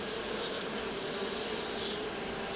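A steady, dense buzzing of many honeybees at an apiary, continuous and fairly quiet throughout with no pauses.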